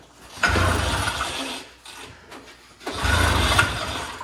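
Jack ratcheting to lift an ATV, in two bursts of rapid mechanical clicking separated by a short pause, close and moderately loud.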